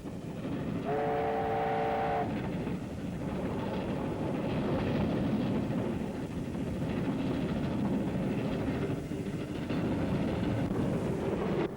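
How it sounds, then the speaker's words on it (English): A New Zealand enthusiasts' special train hauled by A-class locomotive 418 rumbles along steadily, a brief whistle blast sounding early before the continuous rolling noise of the cars carries on. "An enthusiast's special train is hauled by an A-class locomotive, number 418."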